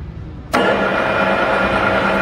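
A conventional metal lathe switched on by pushing its on/off lever down: a sudden broadband motor hum jumps in after a short quiet moment and holds steady and loud, with no talk over it.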